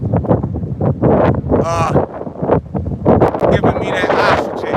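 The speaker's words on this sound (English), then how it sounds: "But yeah, it's windy." Gusty wind buffets the microphone in loud rumbling bursts while a person keeps talking outdoors during a burpee workout, over the rough, flapping noise.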